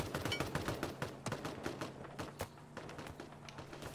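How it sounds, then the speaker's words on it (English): Rapid bursts of video game gunfire, dense overlapping shots and automatic fire over about four seconds, fairly close and steady, with no talking. "I'm getting shot at too"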